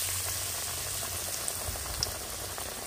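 Batter-coated water lily stalks fry in hot oil in a village-style kitchen, giving a steady, close bubbling sizzle with scattered small pops throughout and no voices.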